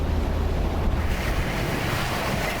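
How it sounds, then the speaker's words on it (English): Storm surf pounds a seawall in Rhode Island during a hurricane-force storm, a loud continuous roar of crashing waves mixed with heavy wind buffeting the microphone, with no voices. "In Rhode Island, the waves crashing over the seawall."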